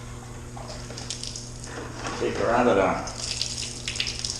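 Water runs steadily through a wort chiller hose during home brewing of a raspberry beer, a continuous rushing flow that swells to a louder gush midway, with a voice talking over it.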